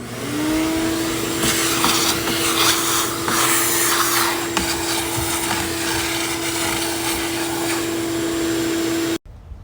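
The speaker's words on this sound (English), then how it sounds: "did all the vacuuming" A vacuum cleaner runs loud and close around a cut window opening in a Sprinter van, with a constant motor whine and hiss, and the nozzle scraping and knocking against the metal, before it cuts off abruptly at the end.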